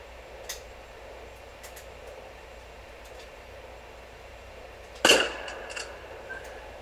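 A sniper rifle shot in GTA San Andreas Definitive Edition, one loud sharp crack with a short ringing tail after a quiet stretch that holds a few faint ticks.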